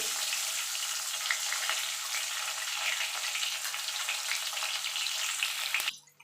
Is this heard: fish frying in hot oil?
yes